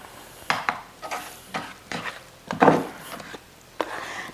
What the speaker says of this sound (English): Now I'm gonna mix it all up.